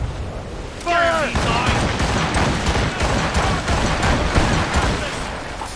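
Ship cannons boom in a naval battle in Assassin's Creed Rogue, a dense rolling barrage of blasts under a brief shouted voice, loud and close.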